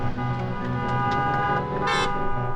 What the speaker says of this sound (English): they're honking their horns in solidarity for just us standing out here